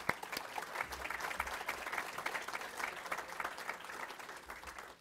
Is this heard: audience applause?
yes